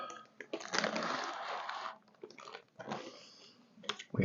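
Hard Lithuanian military ration food is bitten and chewed close up in loud, crunchy bursts separated by short pauses, with wet mouth sounds and no talking.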